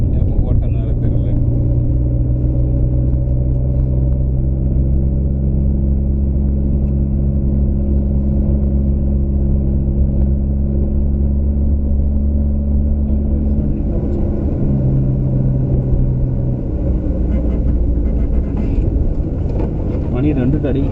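Car engine droning steadily while driving, a loud low rumble with tonal hum throughout, shifting pitch slightly near the end; voices talk faintly beneath.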